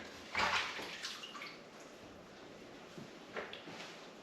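Running tap water rinses a fresh Florida Keys lobster tail, a soft steady flow with a couple of louder splashing bursts near the start and end, close and fairly quiet.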